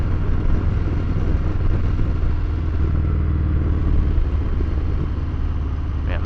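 Harley-Davidson Fat Bob motorcycle engine on a first ride, a steady loud low rumble and throb running continuously from start to finish with constant wind and road noise.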